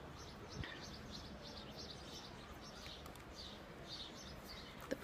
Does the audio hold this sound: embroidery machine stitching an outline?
no